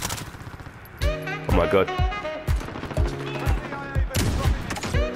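Sniper shots from an AX50 rifle in Call of Duty: Modern Warfare, a few sharp cracks under an excited voice talking over the gameplay.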